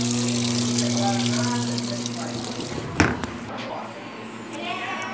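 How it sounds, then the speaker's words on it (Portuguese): A Brastemp washing machine fills with water for a low-level rinse, a steady rushing flow under a low motor hum with a bump or knock midway, close and fairly loud, with a person talking over it. "Agora ela vai encher para enxaguar no nível baixo."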